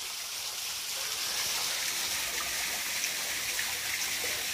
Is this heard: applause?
no